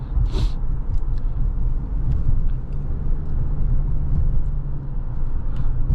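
A 2026 Subaru Outback Wilderness cruising with a steady low road rumble and engine drone throughout, heard from inside the cabin, with a brief higher whoosh near the start and no talking.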